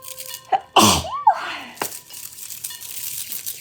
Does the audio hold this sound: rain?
no